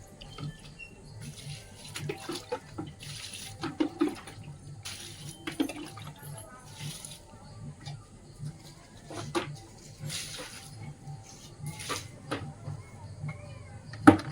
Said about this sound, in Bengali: আম গাছের গোড়ায় আরো জল দিতে হবে শুকিয়ে গেছে আম গাছের গোড়া